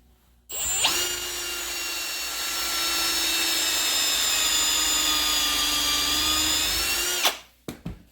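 A cheap power HVAC tool spins up and runs with a steady high whine for about seven seconds while working on the burred end of 3/8 copper tubing, close up, then stops with a few small clicks.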